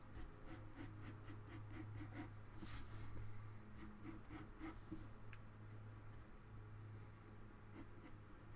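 A pencil draws on paper as a monster sketch is refined, making soft, continuous scratchy strokes and short rubbing bursts, close and faint in a quiet room.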